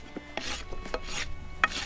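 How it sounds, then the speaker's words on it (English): A farrier's rasp files a horse's hoof, beveling the edge toward the heels; several short, raspy rubbing strokes come in an uneven rhythm, close and moderately quiet, with no talking. "I'm going to smooth it out with my rasp now."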